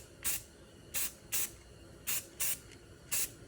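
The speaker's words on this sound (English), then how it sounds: "You want to do really, really, really, really, really light sprays for your first coat." A spray paint can lays a very light first coat onto a wheel over primer, heard as six short, crisp hissing bursts of about a quarter second each, evenly spaced and fairly close.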